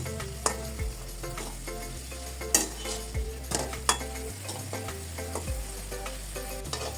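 Pitha snacks fry in oil over medium-low heat, a steady crackling sizzle broken by sharp spatula taps and scrapes against the pan at irregular intervals, heard alone without voices.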